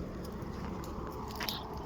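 A young buffalo calf munching cattle feed, close soft crunching and grinding bites in a continuous muffled stream, with light scraping against a steady low background.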